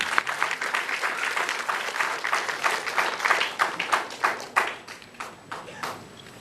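A seminar audience claps to welcome a speaker, dense steady applause from many hands that gradually thins and fades toward the end.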